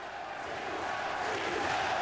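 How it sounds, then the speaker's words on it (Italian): A German crowd at a WBA world super middleweight boxing bout roars steadily, a broad sustained wash of cheering and shouting that builds slightly toward the end. "Adesso il pubblico tedesco si fa sentire, Vincent."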